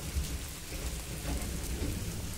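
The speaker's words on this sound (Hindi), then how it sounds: "बड़ी तेज़ बारिश लग गई है यहाँ पर" Heavy rain pours steadily at a Shiva temple in Satgarh, a dense, continuous roar close by with low rumbling thunder underneath and no voices.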